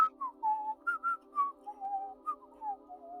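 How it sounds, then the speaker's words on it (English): A person whistles a wandering melody of short and held notes at close range, with no talking. "I can't tell who's whistling."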